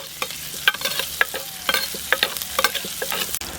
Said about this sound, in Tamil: இந்த எண்ணெயிலே அப்படியே நல்லா வதக்கி விட்டுக்குருவோம்.